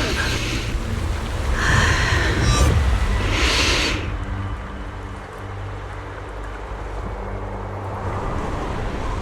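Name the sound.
shifting wind in video game Zenless Zone Zero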